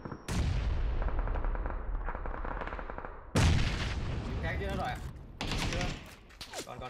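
Bursts of gunfire in a multiplayer shooter video game, firing in rapid volleys and then pausing with sudden loud restarts, with voices talking over it.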